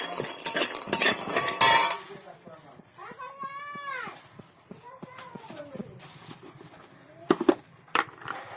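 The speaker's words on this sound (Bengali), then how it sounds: "বড়িগুলো ভালো করে ভেজে নিচ্ছি" Lentil dumplings (bori) fried in oil in a wok, with loud spatula scraping and clatter at first, then a voice talking over softer stirring, and sharp clinks near the end.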